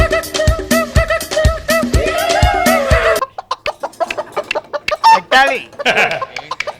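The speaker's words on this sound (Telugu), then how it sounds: "కోడి తీసుకురా." A chicken clucks and crows in a comedy skit, loud and close in a rhythmic run of clucks, then scattered sharper clucks and squawks, with voices talking alongside.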